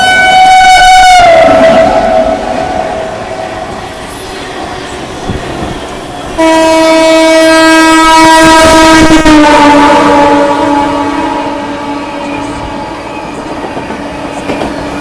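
Indian Railways express train overtaking at Khurja Junction, roaring past close by with a loud, sustained two-tone horn blast, steady rolling rumble and rail clatter throughout, no talking.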